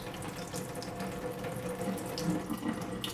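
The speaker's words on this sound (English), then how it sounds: "grab one side of the tray and dump a little bit of the excess water out" Excess water poured from a clear-ice tray into a sink, a steady splashing trickle that runs continuously at moderate volume with no voices.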